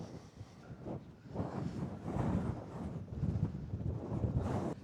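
Gusty wind buffets the microphone in low, rumbling surges that rise and fall, fairly loud and continuous, with no voices.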